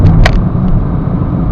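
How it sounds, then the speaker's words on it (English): A 2010 Citroen C3 VTR+ 1.4 HDi brakes firmly on the road, with a loud low rumble of tyres and engine and a brief squeal near the start. "I'm not going to do an emergency stop, just a firm brake"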